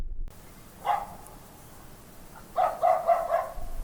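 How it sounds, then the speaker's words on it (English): Faint dogs bark in the night at a distance: one short yelp, a pause, then a quick cluster of several barks over a quiet background. "A sound of distant barking reached her ear."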